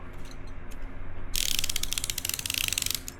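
A ratchet wrench from a modular motorcycle tool kit, with a fine-toothed mechanism of about 90 teeth, clicks in a rapid, steady run of small close-up ticks. The ticks start partway through against a low background hum and are heard alone.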